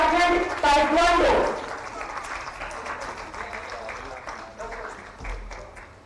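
At an event where the Jharkhand chief minister hands appointment letters to athletes, a crowd applauds over a public-address voice, then the clapping thins to scattered claps with talk continuing.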